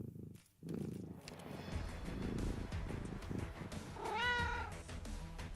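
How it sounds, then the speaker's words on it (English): A cat meows in the Arknights video game: one clear, rising-and-falling meow rings out near the end over a steady bed of game music and effects. "Actual cat noises."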